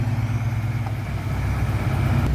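A tractor engine runs on slippery ground with a steady, loud, low rumbling chug close by and no voices.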